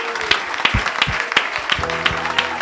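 A church congregation applauds and cheers for Jesus in dense, steady clapping with sharp individual claps throughout, and a few voices call out over it.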